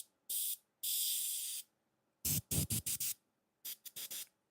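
An airbrush sprays flake onto interior parts for a Corvair, sending out several sharp bursts of hiss: two longer sustained sprays, then a cluster of short quick pulses, and a final trio of brief bursts, close and fairly loud with no talk.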